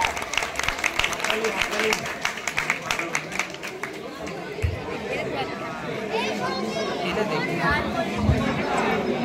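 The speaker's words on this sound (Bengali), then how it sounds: "স্যারের জন্য একটু খুব জোরে হাততালি" Indoor crowd at a celebration event clapping for a guest, dense rapid applause filling the room for several seconds amid chatter and voices, fading into a general murmur of the audience.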